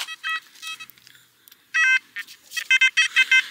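Beach metal detector sounding bursts of sharp electronic tones while pinpointing a target, a few early beeps followed by a longer tone and then a fast run of loud pulses, close and clear with no voices.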